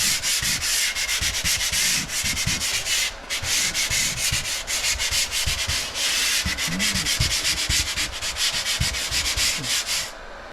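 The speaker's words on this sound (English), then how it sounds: "Just got a hand sand." Sandpaper worked by hand over a repaired, water-stained ceiling gives a continuous, loud scratchy rasp in steady back-and-forth strokes with one brief pause, close up and with no voices.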